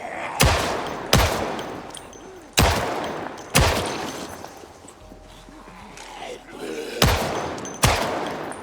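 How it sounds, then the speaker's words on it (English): Gunshots in Project Zomboid, a run of sharp, loud single shots spaced irregularly, some close in pairs, each ringing out briefly before the next. "as you can see, the shooting is way better now"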